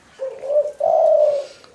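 A tekukur, a spotted or zebra dove, gives two close, loud coos, a short one followed by a longer, fuller one, answering nearby hand plucking.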